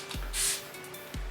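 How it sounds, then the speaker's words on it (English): A makeup setting spray is misted onto a face, a single short, breathy hiss of spray, close and fairly soft. "Once your face is dry, then I will spray this guy right now."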